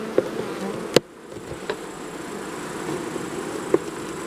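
A dense, steady buzz of many honeybees close by in an open hive in August, with a few sharp clicks and taps scattered through it.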